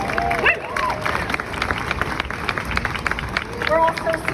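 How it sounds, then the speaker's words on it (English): Outdoor crowd applause at a Sing for Hope street piano event in New York City, dense continuous clapping with some cheering and crowd murmur, fairly loud and close, lasting several seconds. "Please give all of these tremendous people a round of applause."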